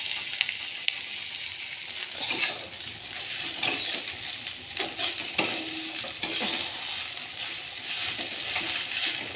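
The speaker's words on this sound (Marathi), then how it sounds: "इथं रात्रीचा राहिलेला भात आहे, थोडासा हलवते, ह्याला गरम करते" Leftover cooked rice is stirred and reheated in a pan, with a spoon scraping and clinking against the metal in irregular strokes over a soft, steady sizzle.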